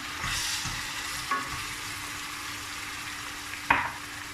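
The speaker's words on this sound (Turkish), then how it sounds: "Şimdi doğradığımız patlıcanlarımızı" Steady sizzling and crackling of chopped eggplant frying in a pan with onions, with a couple of sharp clinks from a utensil against the pan.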